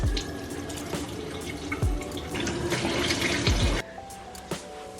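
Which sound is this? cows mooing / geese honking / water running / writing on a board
water running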